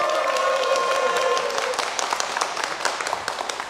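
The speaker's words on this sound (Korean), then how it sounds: "응원의 박수 한번 보내주세요." Studio audience applause on a Korean TV news ranking show, a steady wash of clapping from a crowd that fills the whole stretch and tapers slightly toward the end.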